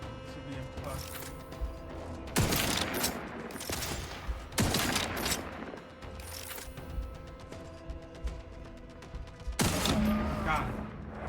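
In the video game The Outer Worlds 2, sniper rifle shots crack out in a few separate loud bursts spaced several seconds apart, with mechanical clicks and a voice speaking in between.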